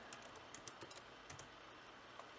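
Quick bursts of keystrokes on a computer keyboard, soft close clicks in short irregular runs with brief gaps, quiet and alone.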